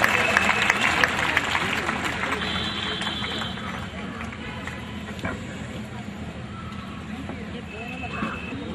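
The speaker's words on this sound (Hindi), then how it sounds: "जोर से तालियां बजाएं एक बार।" Ceremony audience applauding award winners at a state award event: a burst of dense clapping that is loudest at first and then gradually thins and fades.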